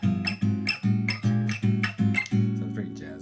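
Guitar chord in a neo soul style, a 13th voicing played on strings 6, 4, 3 and up, strummed about seven times in a steady pulse, each strum ringing briefly, close and clear.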